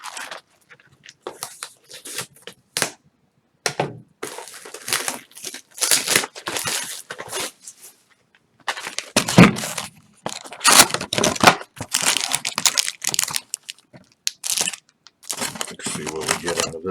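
Plastic wrap crinkles and tears off a Magic the Gathering Dominaria booster box in sharp crackling bursts with brief pauses, close to the mic.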